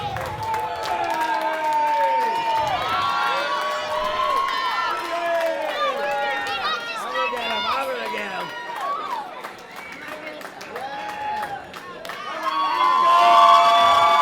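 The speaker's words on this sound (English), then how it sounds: "The crowd on their feet for Marcus Burke." A wrestling arena crowd roars and cheers as a wrestler walks to the ring without entrance music, a dense constant wall of shouting, whistles and scattered clapping that swells louder near the end.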